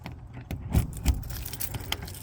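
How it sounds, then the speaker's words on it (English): A large bunch of house keys jangles close by at a pole barn door, a few short metallic shakes and clinks with no voices. "I got way too many keys, you guys,"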